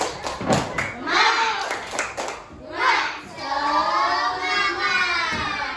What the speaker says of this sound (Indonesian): Yuk berdiri, tepuk semangat